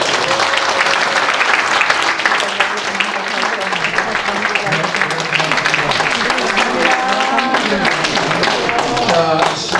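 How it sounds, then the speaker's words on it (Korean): Applause from a symposium audience fills the hall after a circular-breathing performance on a short wind instrument. It is steady, dense clapping throughout, with voices and faint tones mixed in. "박수 한번 주세요."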